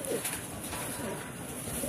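Racing pigeons coo softly in a loft, a brief, faint murmur of low cooing under steady background noise.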